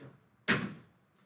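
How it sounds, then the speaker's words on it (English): A single sharp knock on a door lands abruptly in an otherwise quiet room, close and fairly loud, then quickly fades away. "someone knocked on the door"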